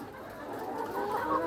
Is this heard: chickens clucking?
yes